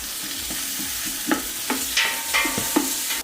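Half a cup of onions sweats in smoky bacon grease, a steady close sizzle broken by several soft stirring scrapes and taps at an irregular pace.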